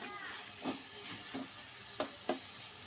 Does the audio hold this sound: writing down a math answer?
no